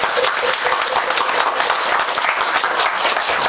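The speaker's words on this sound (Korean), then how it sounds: "사수님께 큰 박수 한번" Warm, steady applause from a gathered crowd at a Korean Taego Order Buddhist temple's disciple dharma-transmission ceremony; dense, even clapping fills the whole stretch without pause.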